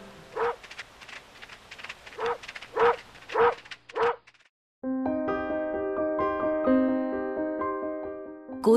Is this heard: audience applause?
no